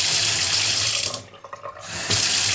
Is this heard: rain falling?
no